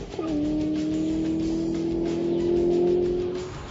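A Nissan GT-R accelerating hard on a 0-60 mph run: a loud, steady engine note holds and climbs slightly for several seconds, close and continuous with no talk.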